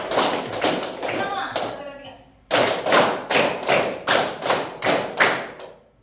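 A class of schoolchildren claps a patterned rhythm on a teacher's cue, a ragged burst of claps first, a short pause, then a run of about seven even, loud group claps.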